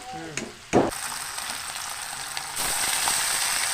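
Fish frying to a golden crisp in hot oil for a new year party meal, a steady bright sizzle that swells louder partway through, with a couple of brief clatters near the start.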